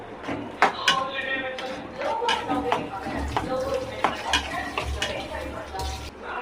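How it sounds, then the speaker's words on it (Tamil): Ingredients sautéed in a pan, with a steady sizzle under repeated scraping and clinking of a spoon or spatula against the metal, while a voice talks. "போட்டு வதக்குவோம்."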